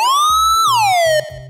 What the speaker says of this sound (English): that's what I use to create the Dub-Siren on that synthesizer